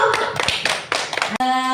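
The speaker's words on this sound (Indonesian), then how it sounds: "Tepuk tangan untuk kita semua Bapak Ibu guru." A short burst of clapping from a group of schoolteachers at a school training session, quick uneven claps for about a second and a half, then a steady tone takes over.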